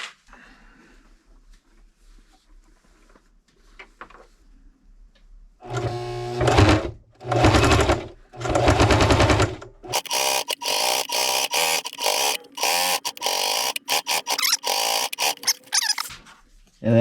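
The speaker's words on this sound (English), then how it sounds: "I can get it fitted onto the sewing machine" A sewing machine stitching a Canadian Forces insulated military surplus canteen pouch, running in two short bursts and then a longer stretch of steady rapid clatter after a quiet start with faint handling noises.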